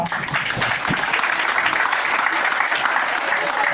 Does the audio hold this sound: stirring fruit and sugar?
no